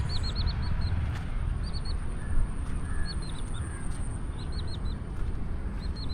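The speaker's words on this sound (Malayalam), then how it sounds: "കിളികളുടെ സൗണ്ട്" Birds chirp and call beside a wide canal running between paddy-field bunds in the evening: short, repeated high twitters come in bursts over a steady soft outdoor hiss, fairly close and clear.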